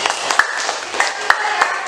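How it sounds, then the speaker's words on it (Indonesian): Scattered hand clapping for a participant in a classroom lesson, a few sharp separate claps ringing out over a faint background hum. "tepuk tangan untuk Mbak Asmi"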